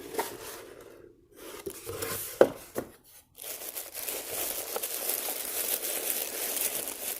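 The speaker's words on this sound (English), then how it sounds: "I always hate ripping this pretty paper." Wrapping paper crinkling and tearing as a monthly craft-supply subscription package is unboxed, close up, in irregular bursts of rustling with short pauses and sharp rips, no talking.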